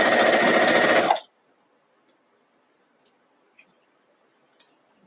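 A sewing machine stitching a quilt seam runs in a fast, dense rattling burst for about a second, then stops abruptly, leaving near silence with a couple of faint small clicks.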